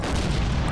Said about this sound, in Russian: А вот что не лучше, так это взрыв.